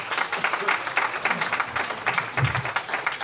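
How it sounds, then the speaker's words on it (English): Audience applause at a local nostalgia night, a steady patter of many hands at moderate distance with a low murmur of voices underneath. "It does deserve a round of applause, Tracy."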